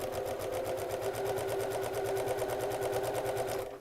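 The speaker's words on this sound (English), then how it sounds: "And start to sew." A domestic sewing machine runs steadily while stitching elastic onto fabric for gathering, a continuous close whirring hum with a rapid even needle pulse that stops abruptly at the end.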